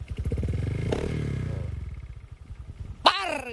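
A modified Honda Vario scooter's engine and exhaust burble with a rapid low pulse close by, fading slightly before a sudden sharp rev near the end.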